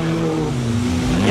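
A 4-cylinder race car accelerates hard at a Category 4 event, its engine note rising steadily in a loud, continuous drone that fills the short stretch.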